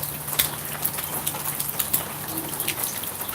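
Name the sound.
rain falling in Oklahoma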